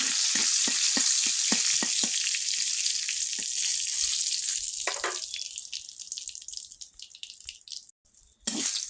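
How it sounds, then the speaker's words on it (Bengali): Dried red chilies fry in hot oil with a loud, even, hissing sizzle, crackles popping near the start, then the sound slowly thins and fades, with no voices. "মরিচ তেলের মধ্যে ভেজে নেব"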